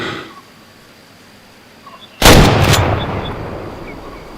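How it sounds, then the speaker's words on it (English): A single loud hunting rifle shot booms in the video game Way Of The Hunter, set in the Nez Perce Valley, and its echo rolls away for a couple of seconds against faint outdoor ambience. "Miss? I shot right over her back."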